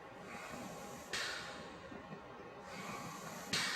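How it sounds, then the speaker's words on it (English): Rescue breaths during adult CPR practice: two breathy, hissing puffs of air blown in, each starting abruptly and lasting a moment, heard close with no talking. "Give breaths."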